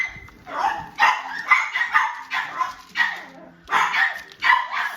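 Several dogs bark repeatedly in quick, uneven bursts, loud and close, with some yipping mixed in.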